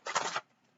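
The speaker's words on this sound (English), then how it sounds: "let me do one more shuffle" Tarot cards shuffled once, a quick papery riffle lasting under half a second, close and fairly soft, then quiet.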